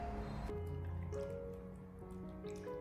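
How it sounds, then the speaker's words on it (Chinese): Beef brisket being rinsed in a bowl of fresh water gives close wet squishing and dripping, with sloshing and trickling as the meat is handled, alone without talk. "再添加满清水，继续的给它清洗一下"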